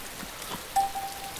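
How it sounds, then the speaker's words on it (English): Steady rain in the DayZ Standalone game world, a soft even patter of drops across the whole span with a brief brighter tone near the middle, no voices. "they're actually making it to where it rains, you will get wet"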